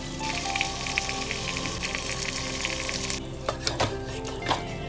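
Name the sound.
marinated chicken frying in hot ghee with coriander and chilli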